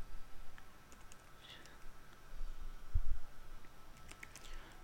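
Someone types an email on a computer keyboard, producing quiet, irregular key clicks and taps close by with a soft background hum.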